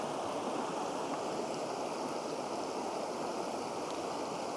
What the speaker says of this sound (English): There's a rushing river behind or in front of me.